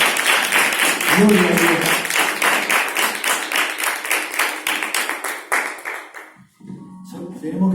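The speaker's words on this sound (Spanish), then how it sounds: "Dale fuerte palmas para Jesús." A church congregation claps loudly in steady rhythmic unison for Jesus, with voices talking over the beat; the clapping fades out near the end as speech continues.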